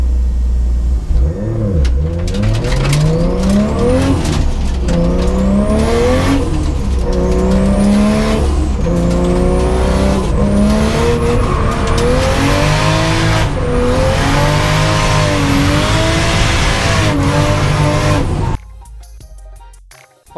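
Drift cars at the Nürburgring Drift Cup rev hard and squeal their tyres in long sweeping bursts, engine notes climbing and falling repeatedly, loud and close, before cutting off near the end.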